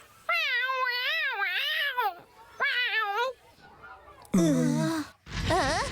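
A cartoon cat yowls as its tail is chewed, with long, wavering, high-pitched cries in several loud bursts and a rough, strained wail near the end.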